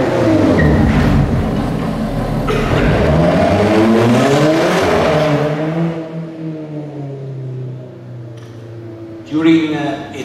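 An Alfa Romeo 4C sports car revs and accelerates on a test track, then its engine note winds down as it brakes. Close, loud engine sound with someone narrating over it.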